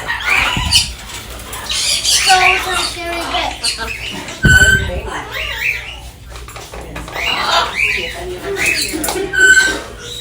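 Cockatoos and macaws at a parrot sanctuary squawk and screech loudly and repeatedly at close range, with sharp harsh calls over a steady background of chatter and fluttering.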